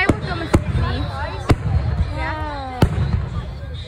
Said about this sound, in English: So the fireworks are right above.